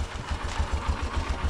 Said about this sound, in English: This is my motorbike over here.